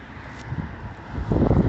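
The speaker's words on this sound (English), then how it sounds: "It's so windy here." Strong wind blows outdoors in central Illinois on a December day, a rough, gusty rumble of microphone buffeting that swells noticeably louder toward the end, with no talking.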